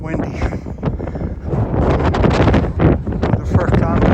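Strong wind buffets a microphone outdoors on a walk, a steady roaring rush that swells and gusts throughout, loud and close, with no other sounds standing out.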